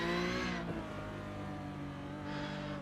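Porsche Cup race cars run in the iRacing sim at Autódromo José Carlos Pace, with no traction control or ABS. Engines drone loud and steady, with a brief higher rev at the start and again near the end.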